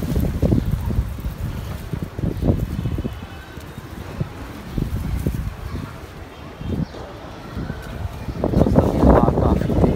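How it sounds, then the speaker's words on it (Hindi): Strong wind gusts through an orchard of mosambi and pomegranate plants, buffeting the microphone in uneven surges, with someone speaking over it. "हवा काफ़ी तेज़ है, आप पौधे देख सकते हैं।"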